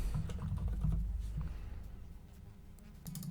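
A computer keyboard being typed on to enter a username, with a run of quick, close, light key clicks that slow and thin out toward the end, and no voices.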